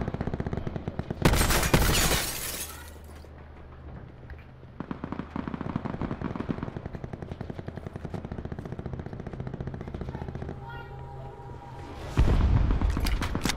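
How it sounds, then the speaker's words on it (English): Rapid automatic gunfire from a guard tower in a shooter game rattles out in loud bursts, with sharp volleys at the start and end and continuous lighter shots and booms in between. "They on the guard tower shooting."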